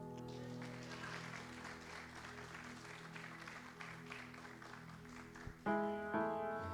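A congregation claps during a church service, a soft, sustained patter of many hands heard from a distance, before a brief louder tonal sound cuts in near the end.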